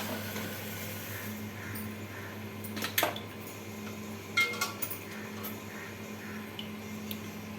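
A metal pressure cooker is set onto a stove with a few short, sharp clanks and clinks, the loudest near the middle, against a low steady hum in a quiet kitchen.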